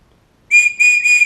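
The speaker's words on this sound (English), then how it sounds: "And then we've got the whistle on the other end," An emergency whistle from a premium survival kit is blown in three loud, shrill blasts, the first longer, with silence before them and no talking.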